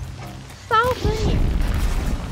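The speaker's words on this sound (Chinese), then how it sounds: "炸弹呀！" A bomb goes off in a bandit-themed video game level, with a deep, rumbling boom that rolls on for over a second right after a brief shouted voice.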